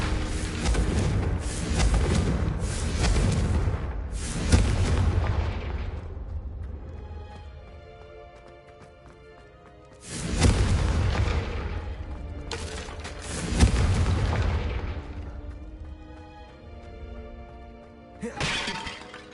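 Confringo fire spell in the video game Hogwarts Legacy, giving loud shattering, crashing explosion bursts in three separate waves that ring out and decay, with no talking.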